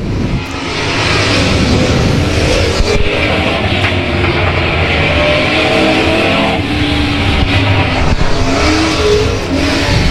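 Race cars roar past on a circuit, one slipping between two slower cars, their engines a loud, continuous drone that swells and fades as they pass; no one talks.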